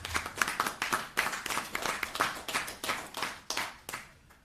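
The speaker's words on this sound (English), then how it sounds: "And I ask us to give him an applause." Applause from a press conference audience, a smattering of hands clapping in an uneven rhythm that swells and then thins out toward the end.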